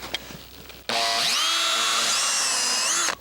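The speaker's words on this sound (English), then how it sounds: "you want to take a drill and you want to drill a hole right in here" A power drill bores a hole into the frame of a tennis racket, a steady high whine starting after a brief pause and running loud and close to the end.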